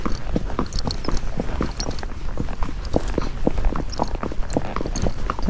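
Hooves of a Missouri Fox Trotter horse gaiting outdoors, a quick, even clip-clop rhythm of many close, distinct hoof strikes.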